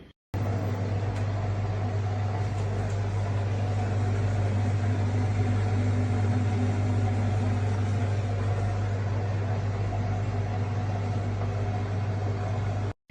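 A washing machine hums through a mixed-fabrics wash cycle, its motor drone steady and unbroken for the whole stretch. It starts and stops abruptly at the edges, with no talking.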